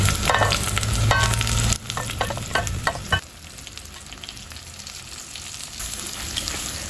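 Onion and fried tofu sizzle steadily in a hot pan, a dense continuous frying hiss with occasional sputtering, strong at first and then settling to a softer, even crackle.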